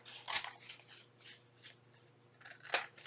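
Scissors trim around paper cut from a magazine or book page to make a craft tag. Several crisp, close snips come at an irregular pace, quiet and alone.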